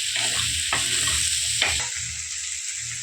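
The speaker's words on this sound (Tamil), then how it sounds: "ஸ்டீம் பண்ண கறியை சின்னதாக பிச்சு போட்டு இந்த வெங்காயத்தோடு போட்டு வதக்கிக்கலாம்." Torn pieces of steamed chicken stir-fried with onions in a pan for a dhaba-style curry, giving a steady loud sizzle with scraping stirs and spatula knocks throughout, no talk.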